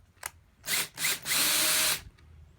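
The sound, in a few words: power drill drilling hole for trolling motor plate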